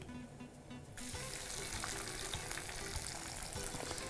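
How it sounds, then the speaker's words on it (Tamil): Whole cinnamon, cloves and fennel seeds with mint sizzle in hot oil: a quieter start, then a loud, steady crackling hiss from about one second on, with no talking. "பட்டை, லவங்கம், சோம்பு, புதினாவை நல்லா வதக்கிட்டோம்"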